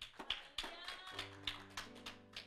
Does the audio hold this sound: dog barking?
no